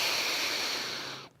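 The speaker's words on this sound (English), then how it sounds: "And so now taking a breath" A person takes one long, slow breath, a soft airy hiss that fades out at the end, heard alone in a quiet guided meditation.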